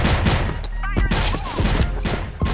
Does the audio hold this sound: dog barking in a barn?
no